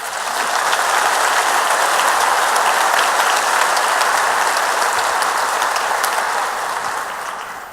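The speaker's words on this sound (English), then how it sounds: "Would you recognize that commitment to get better with your applause?" Loud, sustained applause fills a large room at a back-to-school faculty meeting, dense continuous clapping from many hands that holds steady for several seconds before easing slightly at the end.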